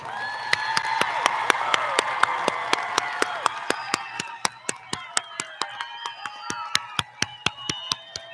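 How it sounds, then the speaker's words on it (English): A graduation audience in Bryan, Texas keeps up warm, continuous applause, with sharp regular claps from one close pair of hands standing out in a steady beat over the crowd. "let's give all of our graduates another big round of applause"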